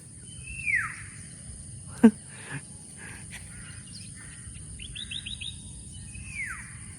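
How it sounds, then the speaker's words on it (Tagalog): Birds call and chirp intermittently on the Unisan Sands coast, with a few descending whistles and quick trilled notes over a soft hum of insects in the background. "Grabe, ang daming tunog nung ibon."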